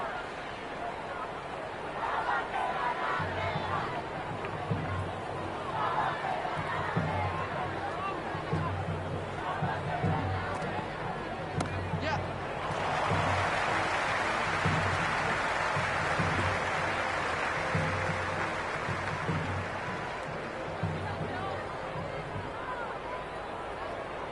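Cricket stadium crowd in the video game Cricket 26, a continuous roaring murmur of spectators that swells partway through, running beneath commentary.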